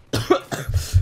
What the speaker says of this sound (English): I was legit coughing